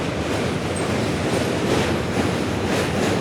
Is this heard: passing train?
yes